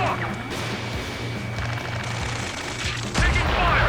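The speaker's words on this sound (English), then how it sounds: "Taking fire! We're pinned down! Shoot back!" Sustained gunfire in Ace Combat 7 during a rescue mission, dense crackling bursts under a steady helicopter rotor drone, with a heavier crash near the end and radio chatter mixed in.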